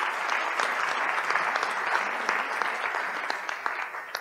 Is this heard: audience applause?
yes